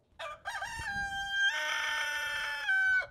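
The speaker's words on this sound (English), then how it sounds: "He jumps on the fence and crows." A rooster perched on a fence gives one full, loud crow that rises, holds steady and cuts off sharply, close by in a quiet farmyard with no voices.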